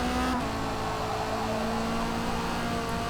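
Race car engine in the Forza Motorsport video game with traction control pulling back the throttle, heard as a steady, moderate mechanical whine and drone with no one talking.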